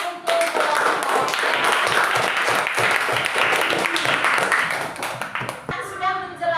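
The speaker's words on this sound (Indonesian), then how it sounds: "tepuk tangan untuk kelompok" A primary school class claps for a student group after a lesson on animal life cycles, dense steady applause with tapping hands that fades near the end as a voice starts to speak.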